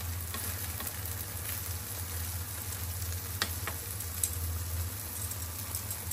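Food sizzles and crackles steadily in a frying pan, faint and continuous over a low background hum, with a few sharper pops and ticks scattered throughout.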